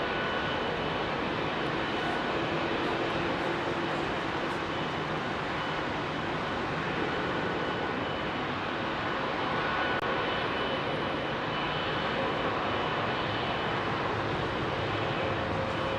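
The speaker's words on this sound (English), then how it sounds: "you're going to hear these GE90 engines spool up as he comes up the ramp" A Qatar Airways Boeing 777's GE90 jet engines spool up at Heathrow in fog, a steady, broad roar that holds at even strength throughout with no talk.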